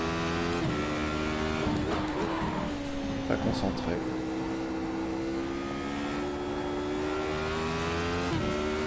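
A Radical SR8 race car in iRacing at night, its engine whining at high revs, rising through gears with sharp shift breaks and steady drones between them, while someone talks over it.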